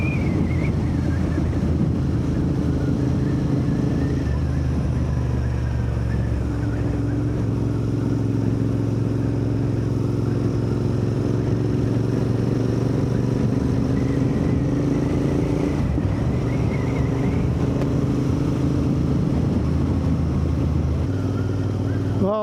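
Royal Enfield Interceptor 650 motorcycle cruising along Yorkshire back lanes near Barnsley, a steady low engine drone throughout with wind buffeting the microphone and slight shifts in pitch as it rides.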